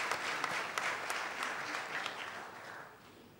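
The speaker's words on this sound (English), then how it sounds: "Let's welcome Ni with a round of applause." An audience claps for a speaker being welcomed at a policy talk, a dense steady round of applause from a room full of people that slowly fades over a few seconds.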